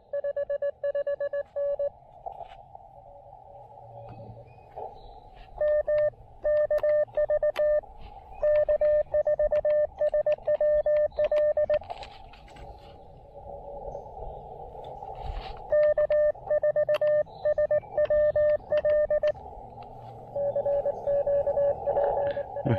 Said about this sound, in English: So I'm gonna do 20 meters CW if I can get him.